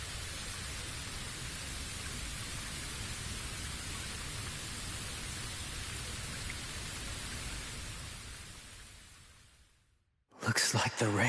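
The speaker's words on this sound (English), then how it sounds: "Looks like the rain has stopped." Rain falls in the Bleach Rebirth of Souls video game, a dense, steady hiss of downpour that fades out near the end before speech-like sound cuts in.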